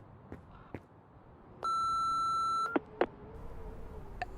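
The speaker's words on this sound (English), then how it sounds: "Maybe they left a voicemail." A phone's voicemail beep in Remothered 2: one sustained electronic tone lasting about a second, clear and alone, after a few quiet clicks and before faint background sounds.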